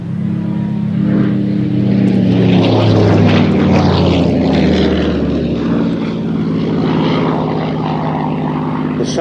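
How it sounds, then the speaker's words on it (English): A Merlin 45 aircraft engine of 1440 horsepower powers an elliptical-wing R.J. Mitchell plane, roaring loud and steady as it passes close, with a rising and falling propeller drone. "The sound of a Merlin 45 engine, 1440 horsepower"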